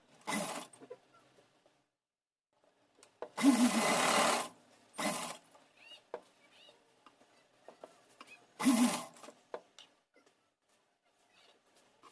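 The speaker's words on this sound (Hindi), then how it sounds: "फ्रिल को रखते हुए फिर सिलाई चलाएंगे" A sewing machine stitches a frill onto a cotton doll dress in short, loud whirring runs of about half a second to a second, separated by quiet pauses with faint handling clicks.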